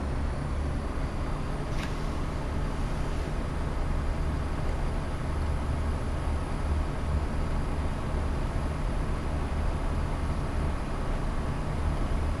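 A Class 171 diesel multiple-unit train under power in Train Sim World 6, a steady loud engine drone and broadband rumble that holds constant with little change throughout.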